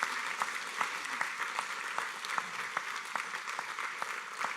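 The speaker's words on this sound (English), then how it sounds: "Please, a round of applause for Anthony Vasquez" A smaller audience claps at a Driver of the Year awards ceremony, with a soft, fairly distant patter of applause and a few individual claps standing out in a loose rhythm.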